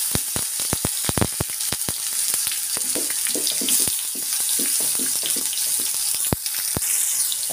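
Curry leaves, cumin and tomato sizzle in a hot pan, a loud continuous crackling hiss broken by many sharp pops and spits throughout.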